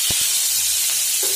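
Onions, chillies and garlic sizzle in a little hot oil in a pan, a steady broad hiss that runs throughout with a couple of soft low knocks near the start.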